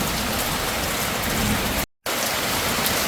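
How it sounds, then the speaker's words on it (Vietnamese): Heavy rain pours down in a loud, dense, unbroken hiss, cut off by a brief silent gap before the downpour resumes. "Trời đang mưa to quá con ạ"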